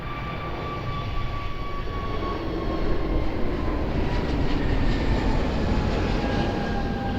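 A jet airliner rolls for takeoff on runway 02 at Lisbon Airport, a steady broadband engine roar building slightly and holding, heard from a distance with a faint tonal whine above it and no talk.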